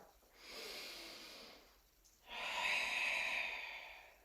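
Two slow, audible breaths during floor exercise in a gait and balance class, a long breath followed after a pause by a stronger, hissing exhale, close and fairly quiet with no talking.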